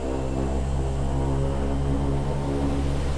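The twin turboprop engines of a historic Convair 580 drone steadily and loudly as they spool up toward takeoff power, a constant deep propeller hum heard close up from inside the cockpit.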